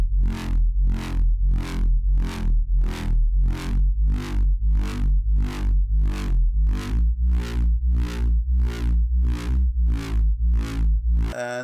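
Vocal harmony melody over a deep bass line, a steady run of about fifteen evenly spaced notes with a strong low end, loud and upfront with no talking.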